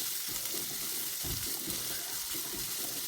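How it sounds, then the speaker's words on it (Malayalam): Chopped spring onions sauté in a hot pan for fried rice, giving a steady close sizzle with rhythmic stirring scrapes and no talking. "ഇനി ഇത് ചെറുതായിട്ടൊന്ന് വഴറ്റിയെടുക്കാം."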